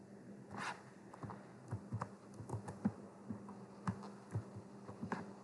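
Soft, quick clicking of someone typing code on a computer keyboard, irregular taps heard faintly and fairly close against a steady background hum, with no voices.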